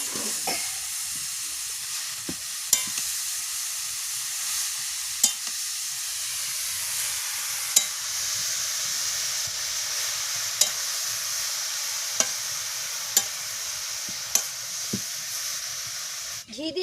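Grated carrot fries in ghee for carrot halwa. It makes a constant soft sizzle and hiss, and a spoon or spatula scrapes the pan about every two seconds, with sharp taps between. Nobody speaks.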